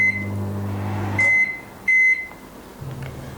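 A microwave oven gives two short, clear electronic beeps as its buttons are pressed, and then a low, steady hum starts up as it begins heating. There is no talking.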